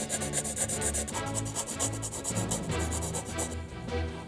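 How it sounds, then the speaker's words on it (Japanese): Hand filing on plastic model kit parts for a 1/350 Tamiya battleship Yamato, smoothing sprue gates and part lines: rapid rhythmic rasping strokes, close and quiet, repeating steadily without voices. "ベースとなるプラパーツを切り出して、湯口やパートラインをヤスリがけ。"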